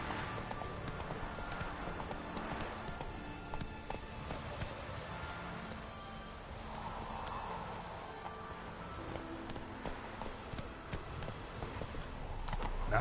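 Roach, the horse from The Witcher 3, runs with quick, fairly faint hoofbeats mixed into busy game ambience and music, with no speech.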